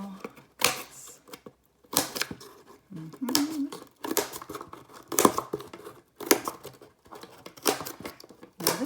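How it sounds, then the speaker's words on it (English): Scissors snip small slits into the edge of a large cardboard box being made into a weaving loom, a series of sharp, close crunching cuts in irregular bursts with quiet pauses between them. "using my scissors, simply make small cuts"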